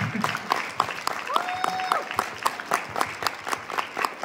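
A crowd at a direct-selling business gathering in Shankarpally claps loudly in a steady, fast rhythm, with a short whistle over the applause and voices underneath.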